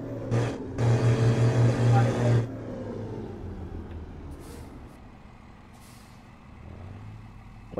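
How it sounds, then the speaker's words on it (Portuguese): A Meteor truck's air brake hisses in Euro Truck Simulator: a short burst, then a loud, sustained release lasting over a second, followed by a quieter idling engine rumble and faint clicks. "eu gosto tanto do barulho de freio do meteor"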